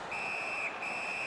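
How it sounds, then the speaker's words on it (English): Referee's whistle blown during an ice hockey game between Seattle and Vancouver, a single sustained shrill tone held about a second with a brief break, loud over steady arena noise. "the referee's whistle has stopped play"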